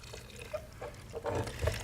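Pineapple juice and chunks pour into a blender, a soft liquid splashing and trickling that swells toward the end, close and fairly quiet with no talk.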